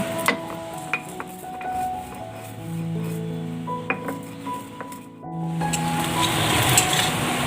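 Onion and garlic fry lightly in a pan for a chicken stew, with a soft steady sizzle under repeated clinks and scrapes of a spoon stirring against the metal, close and fairly loud throughout.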